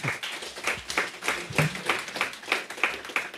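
A small audience at a business breakfast gives a brief round of applause for a speaker: a few people clapping at a steady, quick rhythm, moderately close and fairly sparse, with no voices over it.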